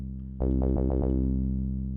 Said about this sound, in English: And some warmth, the overdrive warmth.